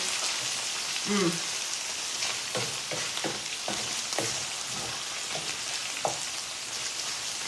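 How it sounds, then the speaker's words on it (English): Tuna breaking up and sizzling in a frying pan with onions and zucchini for Italian pasta al tonno, a constant close hiss of frying with occasional stirring scrapes. "now this is going to cook in with the onions a little bit"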